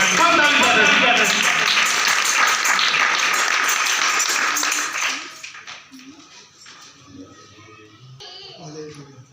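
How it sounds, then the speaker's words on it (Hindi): Congregation clapping together during a church service, a dense loud burst of many hands that stops abruptly midway, leaving quieter scattered sounds and room noise. "सब ताली बजाएं।"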